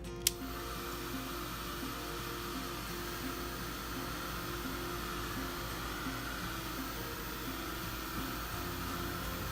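A hair dryer runs steadily and close by as it dries a napkin-art card, a continuous whooshing blow that holds level from start to finish with one brief click near the beginning and no talking.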